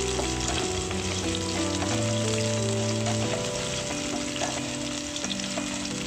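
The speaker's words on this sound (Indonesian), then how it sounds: "Aduk dan gongso-gongso sebentar." Shallots, garlic and plump chilies stir-fried in a pan, giving a dense continuous sizzle with faint spatula ticks, heard beneath steady background music.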